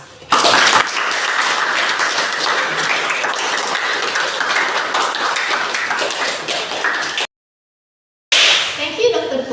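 An audience at an academic speaking course ceremony bursts into sustained applause, dense clapping that fills the room, breaks off into brief silence, then resumes.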